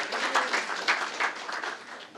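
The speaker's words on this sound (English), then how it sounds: "he really deserves a big round of applause" Seminar audience claps in a quiet, even patter of many hands, moderately distant, with no talk over it.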